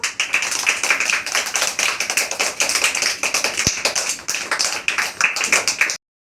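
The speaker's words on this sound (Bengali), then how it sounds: "সবাই হাততালি দাও" Students at a Rabindranath Tagore birthday celebration in a tuition class clap for prize winners, a close, uneven patter of a small group's hands with one sharp knock midway, stopping abruptly.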